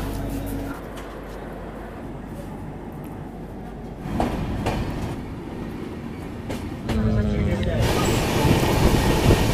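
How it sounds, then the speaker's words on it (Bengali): The 12041 Howrah–New Jalpaiguri Shatabdi Express stands at Bolpur (Shantiniketan) platform 1, with a low rolling rumble of coaches and a few rail clanks, rising louder toward the end while people talk nearby. "1 নম্বর প্ল্যাটফর্মে ট্রেন ঢুকেছে"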